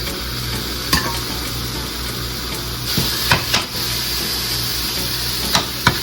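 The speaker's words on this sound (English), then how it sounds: "go ahead and place your hamburger meat inside the pan" Hamburger meat sizzling in a pan on a stove, a steady close frying hiss broken by several sharp clacks of a utensil scraping and breaking up the meat, no talking.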